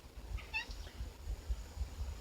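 A pet cat named George lets out a single short, faint meow against a low, rumbling room background, with no talk.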